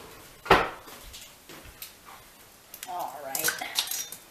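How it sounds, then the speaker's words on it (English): Metal utensils clatter and clink in a home kitchen as someone rummages for scissors while baking brownies, a sharp rattle at first, then quieter knocks and a burst of jostling cutlery near the end. "I'm gonna have to get my scissor, hang on."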